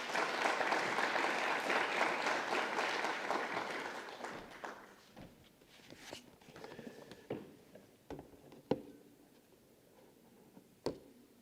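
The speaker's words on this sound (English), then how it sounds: "Please welcome Dr. Saya with a warm round of applause" Warm audience applause welcoming a speaker at a Geneva public health forum, loud at first and then thinning after about four seconds into scattered, isolated claps and small noises in a quiet hall.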